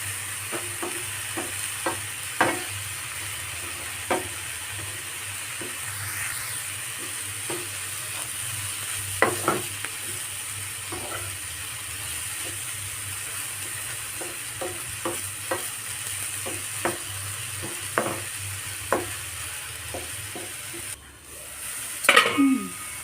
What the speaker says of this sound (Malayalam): ഇനി ഇത് നന്നായി ഇളക്കി കൊടുത്തിട്ട് നമുക്കൊന്ന് മൂടി വെച്ചിട്ട് വേവിക്കാം